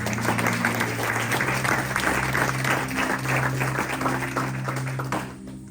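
A church congregation applauds, dense sustained clapping from many hands filling the room, steady and loud before tapering off at the end.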